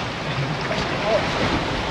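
Strong seaside wind roars steadily into the microphone, a dense, unbroken rushing blast with faint voices beneath it.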